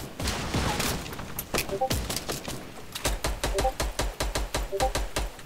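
Gunfire in the video game Fortnite: rapid close shots, first in scattered bursts and then in a dense rhythmic volley of repeated cracks, with a player talking quietly underneath.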